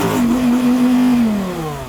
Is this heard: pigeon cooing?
no